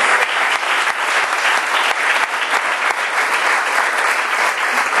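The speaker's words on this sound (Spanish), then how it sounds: "Ofrenda de aplausos al Señor" A church congregation claps together in a Spanish-language service, an even, sustained burst of applause from many people with sharp individual claps standing out, lasting about five seconds.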